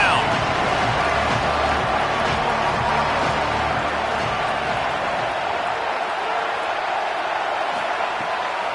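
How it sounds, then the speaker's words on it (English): Football stadium crowd at a college game between TCU and Texas Tech, a broad continuous roar building on a third-down defensive stand, loud and sustained with a play-by-play commentator talking over it. "Decibels rising as the crowd gets behind this defense on third down."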